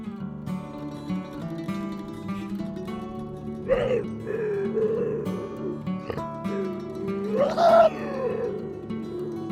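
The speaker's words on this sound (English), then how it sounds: "These are the sounds the Russian lynx makes." Russian lynx calls: a series of growling, moaning yowls with rough tonal harmonics, rising into louder wavering cries near the end, set against a faint steady hum.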